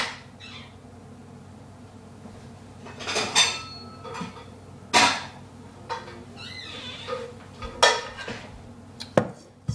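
Pots and pans clatter and clank as one is pulled out in a home kitchen, several scattered metallic bangs and scrapes with squeaks between them, close and fairly loud.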